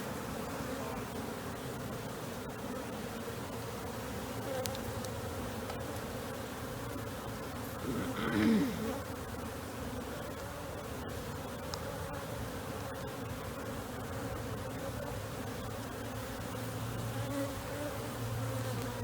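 Honeybees swarm and buzz around an opened hive holding brood, a steady, dense drone that runs close and continuous throughout, swelling briefly midway as the agitated bees grow louder.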